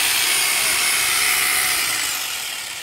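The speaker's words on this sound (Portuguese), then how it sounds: "olha como é que a gente faz o furo, tá vendo?" A drill boring a hole through a concrete roof slab to anchor rebar, a loud continuous grinding whir held close for a few seconds before tapering off.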